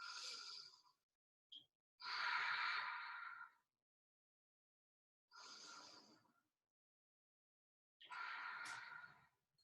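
Slow, deep yoga breaths held in a back-bend pose during a beginner vinyasa class, four long airy exhales separated by quiet pauses, close to the microphone and soft.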